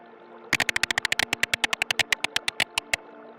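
Whale vocalizations in the deep-sea ocean exploration game Beyond Blue: about two dozen sharp, evenly spaced clicking pulses, quick at first and then spreading out, over a low steady hum.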